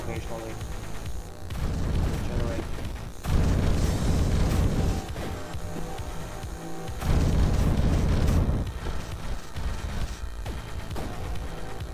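Grenade explosions in the video game Neuro Voider come as heavy booming bursts over a dense, continuous game soundtrack, with two louder blasts standing out in the middle, loud and close.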